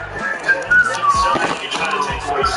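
A referee's whistle at the end of a football game: a thin, wavering whistle tone drawn out over several seconds, fairly loud, with crowd or broadcast noise beneath.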